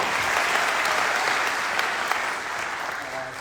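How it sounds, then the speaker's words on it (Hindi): Audience at a Vestige training event applauds loudly and steadily, a dense sustained wash of many hands clapping that eases slightly toward the end. "जोरदार ताली अनिकेत के लिए होनी चाहिए यार"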